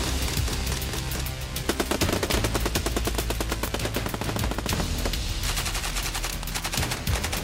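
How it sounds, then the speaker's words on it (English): Sustained gunfire during an Army Ranger School training attack, dense rapid bursts of automatic fire and overlapping shots, loud and continuous throughout without voices. "an exhausted student accidentally squeezes a trigger and fires on the enemy"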